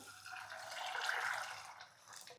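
Water poured onto peas in a pressure cooker, a short, soft splashing gush lasting about two seconds, close and fairly quiet.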